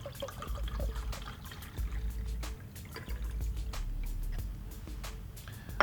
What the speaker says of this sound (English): So transfer from the volumetric flask into the 250 ml beaker.